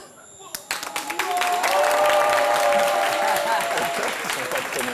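Studio audience applauding on a French TV talk show set, the clapping starting after a brief pause and swelling to a dense, steady roar that holds close and loud, with a voice briefly audible underneath.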